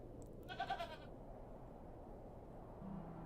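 A single short, quavering goat bleat from the video game The Excavation of Hob's Barrow, faint against a low background hum, with quiet ambience continuing afterward.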